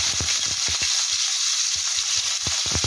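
Chopped onion sizzles and fries in hot oil in a pan for a coconut fish curry, a steady loud hiss with repeated soft stirring knocks, no talking.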